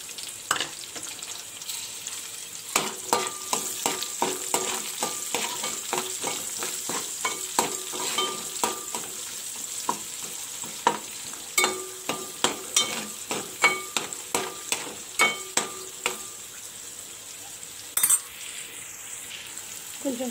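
Onions with green chilli and curry leaves frying in a pan, a steady sizzle broken by frequent sharp scrapes and clinks of a spoon stirring against metal, close and fairly loud, with a brief pause near the end.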